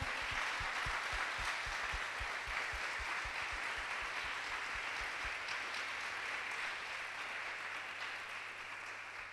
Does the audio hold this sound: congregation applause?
yes